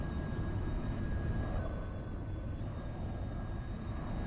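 Steady, loud jet engine roar from a Boeing 777 in the X-Plane 12 flight simulator, a broad continuous rumble with a faint high whine, no talk over it.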